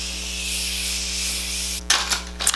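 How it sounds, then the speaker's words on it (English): A Morphe Continuous Setting Mist bottle gives a long, steady fine spray over a low electrical hum, followed by a few short, sharper spritzes near the end. "I'm gonna use this Morphe Continuous Setting Mist."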